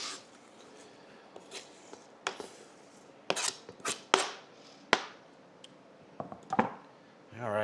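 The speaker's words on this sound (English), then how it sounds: "we'll go with the green cabbage. So I'm going to go ahead and get that chopped up" A knife chops green cabbage on a board, giving irregular, crisp close-up strikes in uneven clusters against a quiet background.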